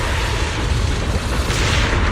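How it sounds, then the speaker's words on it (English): Heavy booming explosions in the Zenless Zone Zero video game, a dense, loud, continuous roar of blasts and rumble filling the whole stretch with no voices. "Move in during the gaps between explosions."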